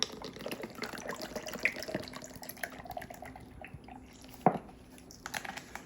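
A caramel protein shake is poured over ice for a pumpkin smoothie, giving close, wet splashing and glugging with small clinks and a sharper knock partway through, with no voices.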